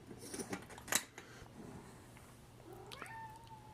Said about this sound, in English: You guys sick of seeing my cat yet?